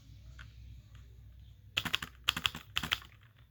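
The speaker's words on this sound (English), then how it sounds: "This is a space bar." Computer keyboard space bar pressed six times in three quick pairs, sharp close clicks against a quiet room with faint hum, no talking.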